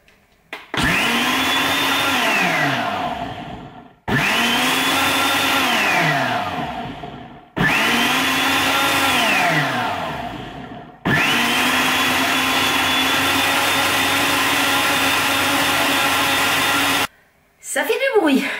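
A blender making a smoothie whirs loudly in four bursts, the motor pitch rising then dropping as it spins down, the last run longer and steady.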